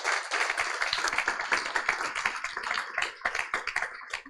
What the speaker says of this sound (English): Another round of applause for all our founders who came on tonight.